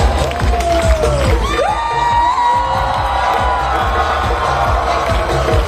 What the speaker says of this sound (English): Have a great round of applause